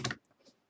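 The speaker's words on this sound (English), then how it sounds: "just select the file and press F2 and start typing the new name of the" A quick burst of keystrokes as a new file name is typed on a computer keyboard, close and crisp, then a few faint scattered taps trailing off into near silence.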